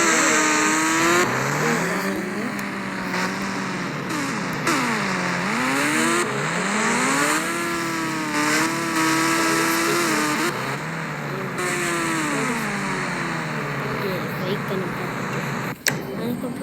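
A KGF motorbike engine in a mobile video game revs up and down repeatedly, its rising and falling whine loud and close, with a brief sharp knock near the end.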